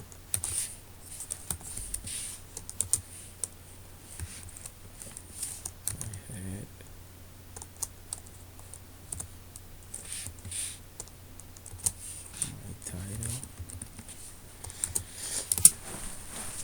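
Someone types HTML on a computer keyboard in short, irregular bursts of soft key clicks, close and fairly quiet, with pauses between runs.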